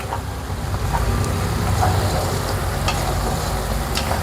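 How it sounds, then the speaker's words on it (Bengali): Masala paste frying hard in a pan for doi potol, a dense, close, continuous sizzle with crackles and spatters and occasional stirring scrapes throughout, no talking. "এই মশলাটাকে ভালো করে ভেজে নিতে হবে।"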